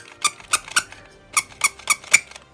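Squeaking from the plastic blob mechanism of the 1994 Spear's Games Escape the Blob board game: seven short, sharp squeaks in two quick bursts, close and clear with no talking.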